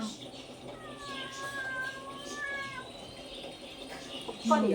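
A cat gives one long, wavering meow against quiet room noise, followed by a brief sharp sound at the end.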